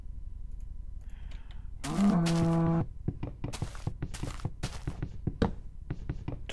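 Cows in the video game Minecraft low in a sustained moo, followed by a string of sharp clicking and stepping sounds from the game, fairly close and moderately loud with no speech.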